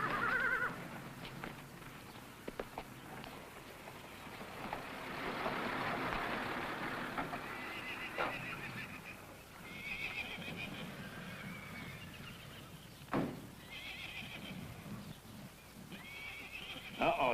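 A horse neighs several times between spells of hooves clip-clopping at a moderate distance, with a wagon-like rumble underneath.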